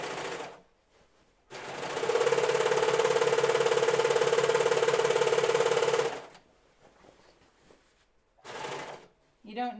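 A serger stitches a jean skirt with a loud, fast, steady mechanical hum and rattle lasting about four seconds, close up, with a person talking before and after the burst.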